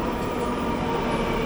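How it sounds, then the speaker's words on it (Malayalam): A Kochi Metro train pulls into the station with a steady, fairly quiet rolling rumble and hiss. No one speaks. "അതാ കടന്നു വരുന്നത് നമ്മുടെ ട്രെയിൻ"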